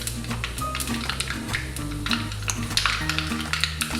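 Cumin seeds splutter and crackle in hot oil for a dahi bhindi tempering, a dense, steady sizzle of rapid pops with a low tonal hum running underneath.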